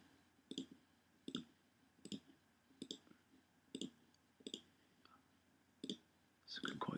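Sharp, close mouse clicks while working in Adobe Photoshop with the Background Eraser tool, arriving in a steady series of about a dozen taps, some in quick pairs, with a brief scuffle of handling near the end.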